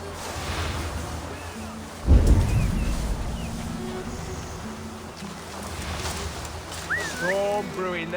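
Low rumbling thunder of a brewing storm rolls in within Assassin's Creed Valhalla, a deep swell rising suddenly and fading slowly, heard alongside game speech and ambient sound.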